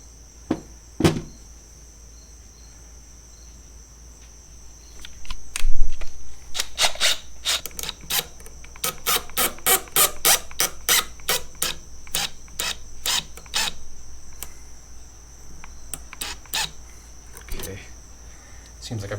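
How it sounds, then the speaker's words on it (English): A small sacrificial screw is threaded into a part on a Suzuki DRZ400SM motorcycle, giving close rapid ticking and scraping clicks in bursts with pauses, while a person talks at times. "I'm going to go ahead and try to thread this one in there"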